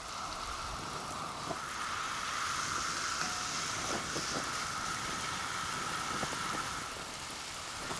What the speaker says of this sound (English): we're going to get those sweated down in my pan in some olive oil for about 4 to 5 minutes